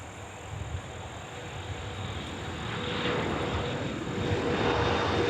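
Engines of a Delta Heavy jet airliner during pushback at Minneapolis–St. Paul airport at night, a moderate steady whine and rumble that gradually swells louder toward the end, heard alone without talk.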